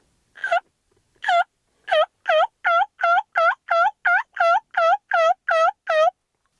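An orange Pacific batwing turkey call, known as the growler, produces a quick series of about fourteen close, loud yelps in an even rhythm after two separated opening notes.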